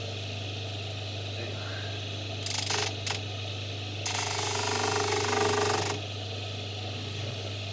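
A homemade grinding machine runs with a steady low motor hum, broken by brief rattling bursts and then a louder two-second grinding stretch before it settles back to the hum; no one speaks.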